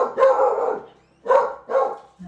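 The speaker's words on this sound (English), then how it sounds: "The dogs outside sure are loud." Dogs bark outdoors in a few loud, drawn-out bursts, first one long volley, then a pause, then two more close together.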